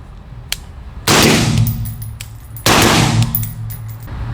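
Two loud, sharp rifle shots go off through a Zero6 suppressor on an indoor range, about a second and a half apart, each followed by a ringing echo off the walls.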